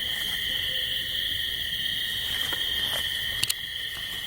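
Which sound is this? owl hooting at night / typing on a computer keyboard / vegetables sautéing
owl hooting at night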